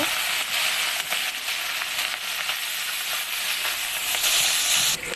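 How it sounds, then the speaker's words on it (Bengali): Chela fish fry in hot mustard oil in a pan, a loud continuous crackling sizzle with steady hissing and small pops throughout, no voices. "মাছটা ভেজে নেব লাল লাল করে, সুন্দর করে মাছটা ভেজে নেব।"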